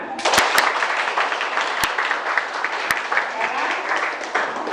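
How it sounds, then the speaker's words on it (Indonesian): A classroom of students claps together during a civics lesson, a busy burst of applause with a few sharp clicks, while a voice speaks over it. "Tepuk tangan."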